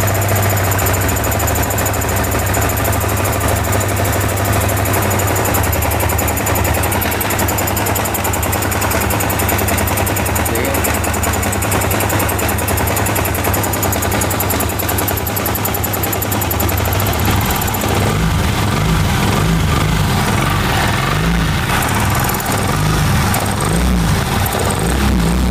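A Yamaha R15 V3 BS6 motorcycle engine runs loud and close after repair, a steady throbbing hum whose tone shifts and wavers partway through as the revs change.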